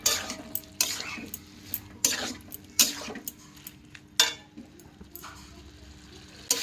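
Duck eggs with bottle gourd being sautéed with chilli powder and chopped green chillies, a low background sizzle broken by repeated loud scraping and clanking strokes of a spoon against the pan.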